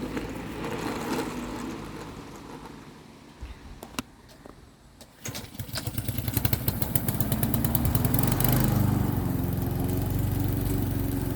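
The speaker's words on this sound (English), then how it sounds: "We do have a little push mower, as you can see." A small push lawn mower runs steadily, growing louder and closer in the second half, with a dip and some clattering knocks near the four-to-five second mark. Nobody speaks.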